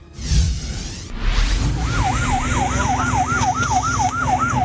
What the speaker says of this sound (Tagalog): sirena ng barko ng Chinese Coast Guard Vessel 23521 sa Exclusive Economic Zone ng Pilipinas